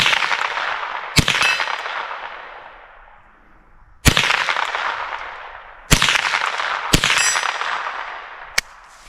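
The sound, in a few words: 22LR Ruger 10-22 rifle shots hitting steel target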